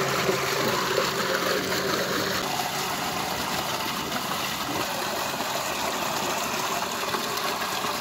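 An electric water pump motor runs steadily on a farm while water gushes out. A constant close wash of flowing water covers a low mechanical hum, and no one speaks.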